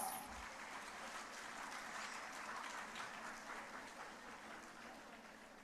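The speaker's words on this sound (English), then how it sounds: "Please give them a huge round of applause" A school annual day audience at a girls' school applauds steadily throughout, a soft, even wash of many hands clapping at a distance, slowly fading slightly toward the end.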